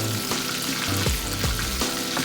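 Rib eye steaks pan seared while being basted give off a steady, close sizzle and crackle of hot fat, with soft stirring and spooning noises running through it.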